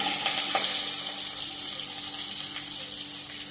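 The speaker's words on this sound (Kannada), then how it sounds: "ಚೆನ್ನಾಗಿ ಫ್ರೈ ಮಾಡುವ ಈರುಳ್ಳಿ" Chopped onion with cumin sizzles steadily in a pan, a continuous frying crackle heard close up with a few brief clinks of stirring.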